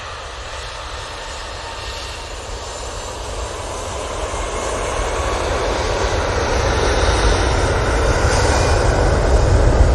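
An airliner on its takeoff roll at Manchester Airport, bound for London Heathrow on a positioning flight, gives a broad, steady jet roar that swells gradually louder over the whole stretch, with no voices.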